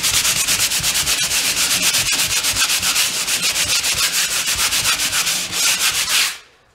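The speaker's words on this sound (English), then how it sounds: "Just sand off some of the rough edges." Sandpaper rubbing over the rough edges of a quick-hardening drywall compound patch in fast, steady back-and-forth strokes. It is loud and close, with no voices, and it stops abruptly at the end.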